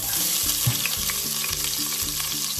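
Loud, continuous sizzling of vegetables frying in hot olive oil, crackling close up with a steady low hum underneath.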